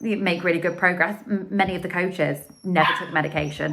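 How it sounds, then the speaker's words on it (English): A dog barks in the background while someone speaks steadily over it, the barking mixed under his voice. "That's my dog barking."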